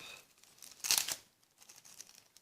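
Plastic wrapper of a Yu-Gi-Oh card pack is cut open with small scissors, a quiet crinkle and one sharp rustling burst, followed by soft handling noises.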